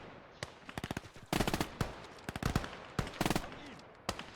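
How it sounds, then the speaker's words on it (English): An MG42 machine gun in the Gates of Hell video game fires in rapid bursts, sharp and loud, separated by short pauses across a few seconds, with scattered single shots between. "MG42 is going to start going to work."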